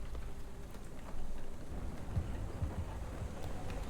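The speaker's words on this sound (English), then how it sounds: "this is what it's like trying to get to your car when it's raining in Los Angeles." Steady rain falls in Los Angeles, a dense, even patter at moderate volume that runs the whole time, with a few soft low thumps scattered through the middle.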